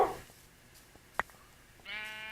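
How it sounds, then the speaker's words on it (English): A sheep in Minecraft on Xbox One bleats after taking damage, a short wavering cry at the end following a sharp hit click, heard alone and fairly close. "I saw the sheep taking damage."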